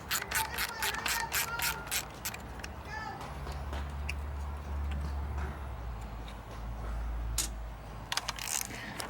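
Ratchet wrench being worked on a Bullnose Ford F350 project truck, a quick run of sharp rhythmic clicks up close, then scattered clicks under a low rumble while people talk nearby.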